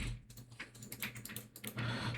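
Quiet, close tapping on a computer keyboard, a quick irregular run of keystrokes with a few short pauses and no voices.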